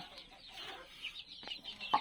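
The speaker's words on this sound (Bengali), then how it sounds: "এগুলো সব আমাদের ডিমের মুরগি ফাউমি মিশরীয় ফার্মি অরিজিনাল" Fayoumi Egyptian laying hens in a small backyard flock cluck softly and intermittently, with a few sharper calls near the end against quiet surroundings.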